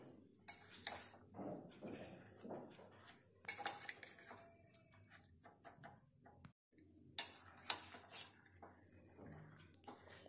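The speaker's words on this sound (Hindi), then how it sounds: "अच्छे से मिक्स करें। मसाला हरी मिर्च पर अच्छे से लिपट जाना चाहिए।" Spiced masala mixed into green chillies for an instant pickle, heard as close, intermittent clinks and scrapes of a spoon against a metal bowl, with quiet pauses between.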